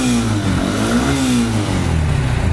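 A Honda X-Blade 160 motorcycle from 2021 revs at close range, its engine note rising and falling in a steady, loud drone with no voices over it.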